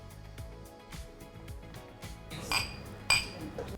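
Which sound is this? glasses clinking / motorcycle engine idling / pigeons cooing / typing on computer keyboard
glasses clinking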